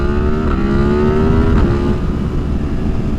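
A 2023 Yamaha MT-10 motorcycle fitted with a Leo Vince slip-on exhaust pulls at half throttle, its engine a loud, close, continuous growl that rises slightly in pitch.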